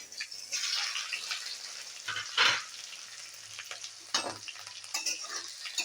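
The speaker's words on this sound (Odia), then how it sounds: "ତେଲ ଗରମ ହୋଇଗଲାଣି, ତେଲରୁ ଧୂଆଁ ଆସିଲାଣି, ଏଇନା ଆମେ ଶୁଖିଲା ଲଙ୍କାକୁ ଦେଇଦେବା।" Dried chilies, cumin, mustard seeds and onion fry in smoking-hot oil, a bright crackling sizzle with sharp bursts as ingredients hit the pan and scraping stirs, loud and close.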